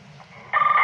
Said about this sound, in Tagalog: So, yun yung Roger Beep niya.